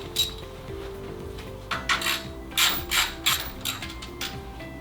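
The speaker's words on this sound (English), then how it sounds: "Grab your socket and tighten that thing up." Socket wrench tightening a nut and washer during assembly of a MityLite SwiftSet folding chair cart, giving a run of light metallic clinks and taps in irregular bursts, close and fairly quiet.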